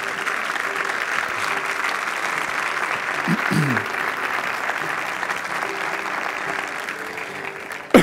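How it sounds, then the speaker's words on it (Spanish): Sustained, loud audience applause at an education congress as the first speaker, Pedro Huerta, takes the stage, a dense steady wash of many hands clapping from start to finish. "recibamos con un fuerte aplauso a nuestro primer ponente"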